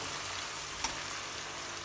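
Tomatoes, peanuts and spices being stirred together in a frying pan, a steady faint sizzle with one brief scrape of the spoon partway through.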